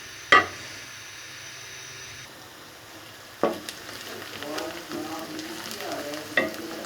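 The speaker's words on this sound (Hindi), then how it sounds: "इसके साथ ही हम चूल्हा ऑन करते हैं और इससे हम ब्राउन करेंगे अपने प्याज को।" Chopped onions sizzle in hot oil in a pan on a stovetop while being browned for qeema, with a steady close frying hiss broken by a few sharp spoon-and-pan knocks from stirring.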